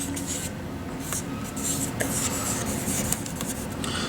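Charcoal scratches and rubs across paper, sketching curved three-dimensional figure forms; a steady close rasp of strokes runs the whole time with brief sharper scrapes and no talking.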